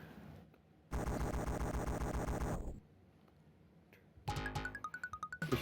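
Rapid machine-gun fire from the aerial shooter game Chariot: Adventure Through the Sky HD rattles in a loud sustained burst, then pauses before a second stretch of pulsing shots with bright electronic pings, with no voices.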